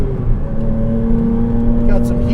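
Steady engine drone from a turbocharged 2007 Porsche Cayman S with aftermarket exhaust on a race track, a sustained tonal hum that holds evenly for a couple of seconds, loud and close.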